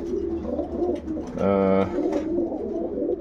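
A female racing pigeon gives a short, rising coo that stands out for a moment over a steady, low background murmur, close to the microphone.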